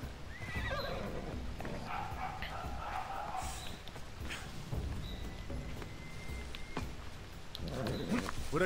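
A horse gallops with clip-clop hoofbeats and gives several neighs in the video game Assassin's Creed Odyssey, loud and close, with game sounds and voices around it.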